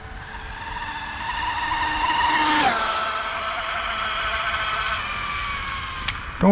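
A Rlaarlo AK-917 RC car on 4S power with a TP 3770kv motor makes a speed run, its high electric whine climbing in pitch as it nears, peaking, then sliding lower as it passes and fades.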